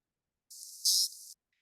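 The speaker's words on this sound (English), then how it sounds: "so that's what a burst pulse sounds like" A single narwhal burst pulse call, a short hissy buzz lasting under a second that swells louder in the middle, heard alone against silence.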